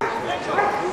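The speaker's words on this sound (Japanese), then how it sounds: "ゴーも吠えてます。" Border collie barking during a run at the FCI agility world championship, short yapping barks close to the microphone, heard under steady commentary and crowd noise.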